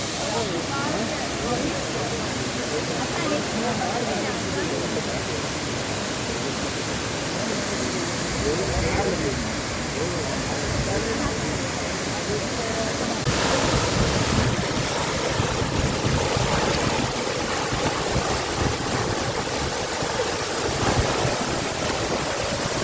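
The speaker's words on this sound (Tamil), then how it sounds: "இந்த காந்தலூர் ஃபால்ஸ் தான். தண்ணி பயங்கரமாக ஓடிட்டுருக்கு." Kanthalloor waterfall near Munnar rushes with a loud, constant roar of falling water, a broad, unbroken wash that swells slightly midway, with voices mixed in.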